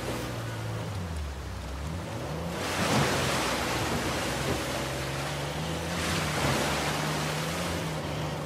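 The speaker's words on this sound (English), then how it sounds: "There's a cave behind the waterfall." A waterfall roars in the video game Uncharted 4, a dense continuous rush with low tonal game music humming beneath it.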